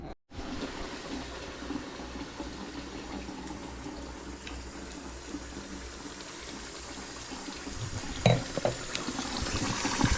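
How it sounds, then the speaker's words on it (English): Tap water runs steadily into a sink while jasmine rice is washed, a continuous close gush that brightens briefly with splashing near the end. "As you can see, guys, I'm finished washing my rice."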